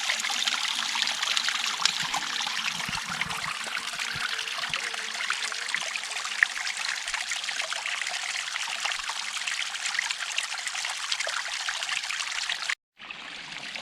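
Mountain water trickles and pours steadily on Mount Feathertop, a close, continuous bright splashing with no talk, cutting out briefly near the end.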